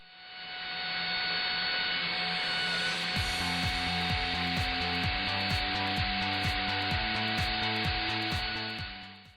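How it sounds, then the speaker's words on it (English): A router fitted with a 1/2 inch spiral bit cuts mortises in construction timber for a ledge and braced door, a loud, steady high whine with rhythmic grinding pulses as the bit moves through the wood. "So here I'm using the router with a 1/2 inch spiral bit to make the mortises."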